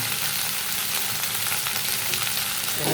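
Okra frying in a pan with turmeric, Kashmiri chili powder and salt, giving a steady, close, bright sizzle with faint stirring and no talk.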